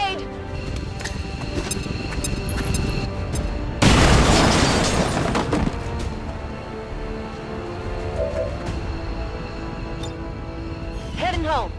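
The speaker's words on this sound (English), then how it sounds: "Throwing grenade!" Grenade explosion in XCOM 2, a loud broad blast lasting about two seconds amid ongoing game effects and clatter.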